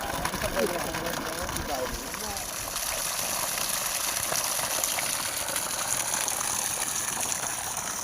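Water gushes under pressure from a 1.5-inch pipe fed by a 2 hp DC borewell motor, a steady broadband rush heard up close for the whole stretch, with faint talk mixed in early on.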